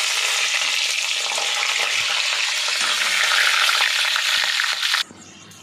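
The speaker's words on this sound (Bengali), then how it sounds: "আমার ঘিটা গরম হয়ে গেছে। এর মধ্যে একটু এই মশলাগুলো একটু দিয়ে দেবো" Whole spices frying in hot ghee: a loud, dense, steady sizzle that runs continuously for about five seconds, then cuts off abruptly to near silence.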